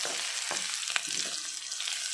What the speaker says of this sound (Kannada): ಇದನ್ನು ಸ್ವಲ್ಪ ಹೊತ್ತು ಫ್ರೈ ಮಾಡಿಕೊಳ್ಬೇಕು.